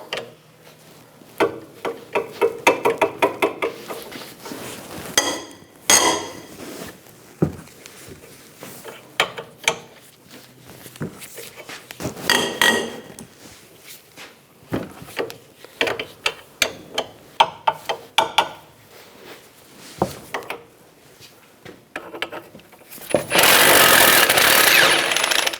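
Socket wrench ratcheting and mechanical clatter as two 17mm brake caliper bolts come out of a 2004-2009 Toyota Prius front brake, in repeated bursts of clicking with a loud rush of noise near the end.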